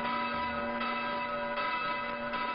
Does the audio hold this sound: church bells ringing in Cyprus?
yes